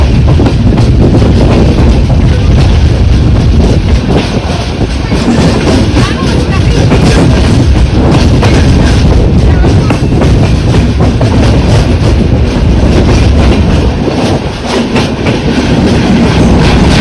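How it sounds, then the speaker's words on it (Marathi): A passenger train on the Ratnagiri–Vasai line runs loud and steady, with continuous rumble and rhythmic clickety-clack of wheels on rails heard from inside the carriage, a dense roar throughout. "आणि आता ट्रेन चिपळूण स्टेशनला आलेली आहे."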